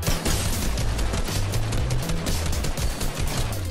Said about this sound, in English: I'm being shot from somewhere else